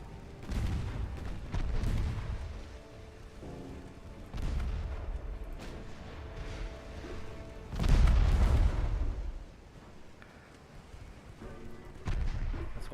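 Warship naval guns firing in the naval strategy game Ultimate Admiral Dreadnoughts, with several heavy booming salvos at irregular intervals over a continuous low rumble.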